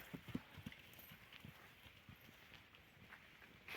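A horse's hooves clip-clop at a slow, uneven walking pace, faint and fairly close, over a low background hiss.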